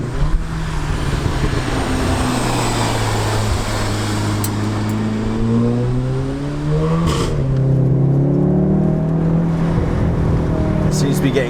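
A Volkswagen Golf R with a resonator-delete straight-pipe exhaust revs steadily, its engine note rising and falling in broad sweeps, loud and close throughout.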